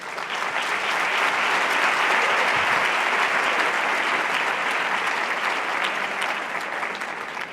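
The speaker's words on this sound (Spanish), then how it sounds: "fuerte el aplauso para él" Loud, sustained applause fills a hall at an institutional education presentation, a dense crowd clapping evenly from start to finish with no voices over it.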